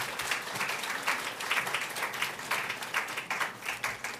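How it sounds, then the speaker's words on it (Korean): A church congregation gives a welcoming round of applause for a visiting pastor at a Sunday worship service, with steady, full clapping from many hands filling the room throughout. "우리 목사님을 환영의 박수로 맞이하도록 하겠습니다"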